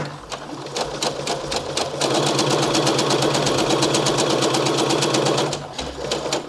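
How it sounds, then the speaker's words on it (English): A domestic sewing machine stitches fabric for a shirred top, running close up with a fast, even mechanical whir and rapid needle ticking throughout. "Start sewing and sew all the way until the next pin"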